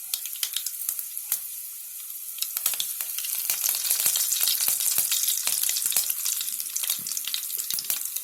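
Mustard seeds, garlic and curry leaves sizzle and crackle in hot oil during tempering for an Indian dal, a close, steady frying hiss dotted with sharp seed pops.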